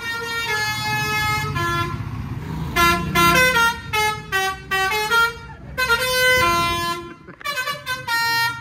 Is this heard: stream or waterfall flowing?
no